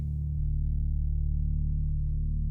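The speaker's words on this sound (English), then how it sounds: "the same exact notes being played on a Serum synth here, which is just playing literally a sine wave" Serum synth playing a pure sine wave that adds sub bass beneath an 80s power pop bass line, a steady deep low hum sustained evenly throughout with no other sounds.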